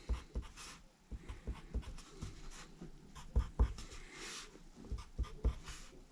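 A pencil draws ellipses on paper in quick, repeated scratchy strokes with an even rhythm, close and fairly quiet.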